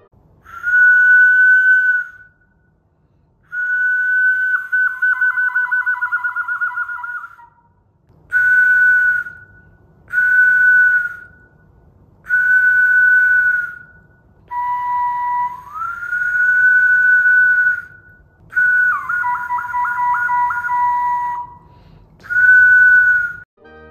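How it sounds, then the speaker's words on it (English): A Portuguese whistle plays a series of sustained tones with pitch drops and short trills, several separate phrases with pauses between, loud and close. "Asobio, or whistle."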